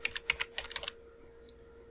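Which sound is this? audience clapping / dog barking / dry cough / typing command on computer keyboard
typing command on computer keyboard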